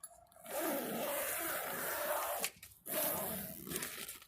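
A zipper on a patio greenhouse cover is pulled in two long, steady runs with a brief pause between them, close and fairly loud with a rough, tearing rasp.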